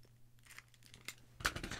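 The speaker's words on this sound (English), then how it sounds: "Let's just cut these open." Scissors snip open game card packs, a few quiet close-up cuts and rustles of wrapper, ending in a sharper crinkling tear of plastic.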